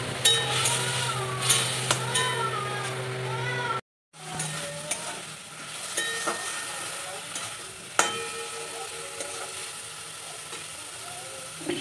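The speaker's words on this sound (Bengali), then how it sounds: "তারপর আমি মাছগুলো দিয়ে একটু নাড়াচাড়া করে নেব।" Rui fish being stirred in a pan with a little water for a kalia curry, a steady close sizzle and hiss with soft scraping, briefly cut to silence midway, then resuming.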